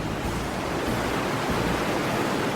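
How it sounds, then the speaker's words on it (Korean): Iguazu Falls, a massive waterfall on the Brazil–Paraguay border region, roars as a dense, steady wash of rushing water, loud and unbroken throughout with no voices. "관광 명소인 이구아수 폭포는 지구상에서 가장 웅장한 폭포 중 하나로 쏟아지는 물의 엄청난 힘을 느낄 수 있습니다"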